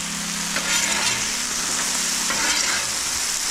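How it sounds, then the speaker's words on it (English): Potatoes seasoned with salt, pepper and garlic fry in a pan, giving a steady, close, loud sizzle with light stirring throughout and no talking. "We've got the potatoes down and they are cooking."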